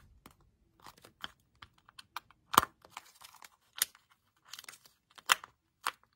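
A Simple Dimple fidget toy shaped like Huggy Wuggy gives off sharp, dry clicks, scattered irregularly one by one and in small clusters, close up in an otherwise quiet room with no talking.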